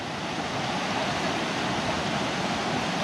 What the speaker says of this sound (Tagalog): medyo malakas talaga yung current ng tubig